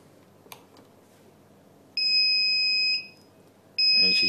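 Two loud, piercing electronic beeps, each about a second long, with a short pause between them and faint background hiss, from a Turnigy lost-model alarm buzzer on a Spektrum radio-control model.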